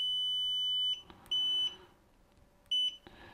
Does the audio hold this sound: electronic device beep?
yes